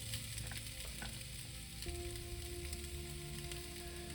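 Rice and vegetables stir-fried in a pan with garlic and onions, a steady dense sizzle running throughout with light stirring scrapes, close and continuous with no talking.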